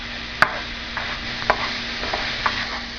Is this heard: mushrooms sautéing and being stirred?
yes